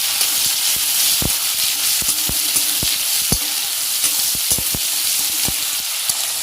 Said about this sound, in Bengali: একটুখানি কালো জিরে ফোড়ন দিয়েছি টমেটো কুচিটা দিয়ে দিলাম